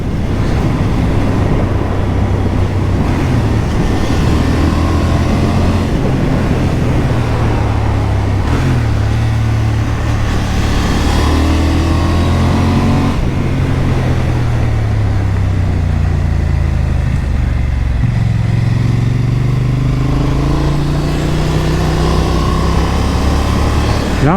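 A 2023 Honda Hornet 750 motorcycle ridden two-up with a quick shifter, its engine rising and falling through the gears, heard loud and constant from close on the bike over heavy wind rush.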